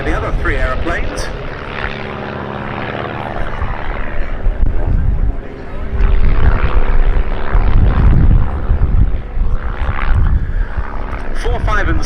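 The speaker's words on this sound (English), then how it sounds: "And a nice split there by the other 3 aeroplanes." Propeller aeroplanes of the Team Raven display team fly overhead at the Duxford summer air show, a loud continuous droning roar that swells and fades as they pass, with a commentator talking over it.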